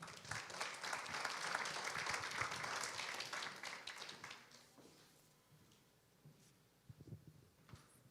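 A church congregation applauds for Pastor Rob, a dense burst of clapping for about four seconds that fades into a quieter room with a few scattered claps and small noises.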